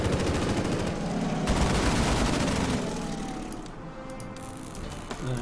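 Units in the war strategy game Order of Battle open fire: a dense, rapid volley of gunshots rattles loudly at first, then thins and fades into a softer tail of scattered shots.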